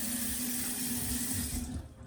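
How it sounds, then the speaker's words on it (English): Tap water runs steadily from a faucet into a sink while clean cleaning pads are wetted for nose piercing and gauge care, a constant close hiss that cuts off at the end. "press and let the water run down like that."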